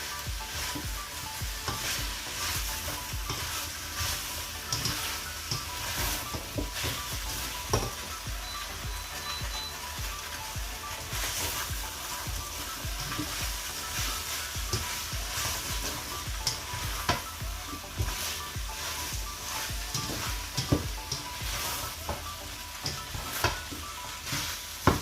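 Sliced bell peppers and carrots are stir-fried in sunflower oil for Chinese sautéed noodles with chicken. A steady, close sizzle runs throughout, broken by frequent scrapes and clicks of stirring and no voices.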